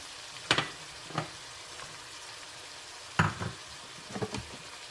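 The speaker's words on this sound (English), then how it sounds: "after 2 minutes of cooking, we can add in our potatoes and carrots" Potatoes and carrots cook with ground meat in a pan for Filipino picadillo, giving a quiet sizzle with a few distinct bursts of stirring and scraping.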